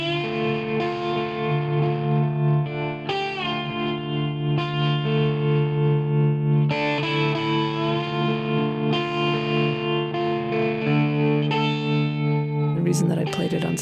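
A sustained slide guitar melody glides smoothly between notes, warm and vocal-like, with gentle effects and steady ringing tones.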